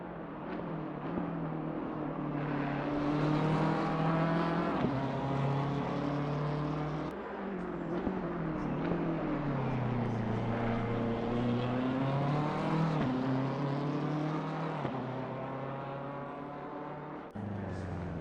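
Race cars lapping an ice rink track in a night endurance racing game, engines droning steadily with rising and falling revs as cars pass, continuous and moderately loud with no talk.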